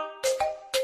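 A short notification bell sound effect chimes in three quick bright rings, a clear tone followed by sharp jingling hits, loud and alone.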